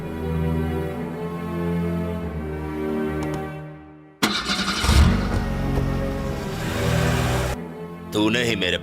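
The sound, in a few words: car being driven off, engine revving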